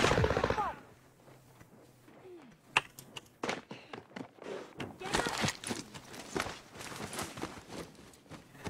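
Video game gunfire crackles in scattered sharp bursts and single shots amid footstep-like thumps, with a player talking over the action.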